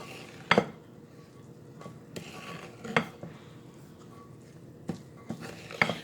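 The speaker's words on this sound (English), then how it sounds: "So you're going to add the cheddar cheese. You're going to mix that really well." Cheddar cheese is stirred into a broccoli casserole, a utensil scraping and knocking against the dish in a few sharp clinks spaced over a soft, quiet mixing rustle.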